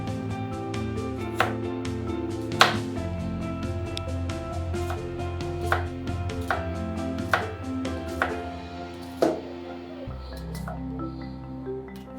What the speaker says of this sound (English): Your onion as well in cube shape.